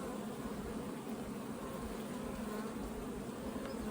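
Honey bees crawling over hive frames in a bee yard make a steady, close, low buzzing hum that stays even throughout, with no talking.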